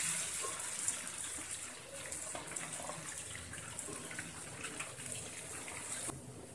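Ghevar batter is poured from a height into hot oil, making a continuous bright, hissing, watery sizzle that holds steady for several seconds and then eases off slightly at the end.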